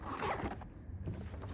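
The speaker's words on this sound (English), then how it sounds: "But the zippers work great on this thing." A zipper is pulled along a tactical double rifle case meant for carrying AR-15s, giving a close, scratchy rasp that runs for about a second and a half with no speech over it.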